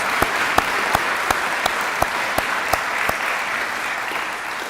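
Audience applause at a city State of the City address in honor of the Chief, a steady wash of clapping with a few sharper claps standing out, fairly near and sustained throughout.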